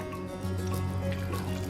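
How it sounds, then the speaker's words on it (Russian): Water runs steadily into a soup pot over cooked carrot, potato and zucchini, a continuous close splashing and trickling with no talk. "Наливаем воды буквально так, чтобы она покрыла все овощи"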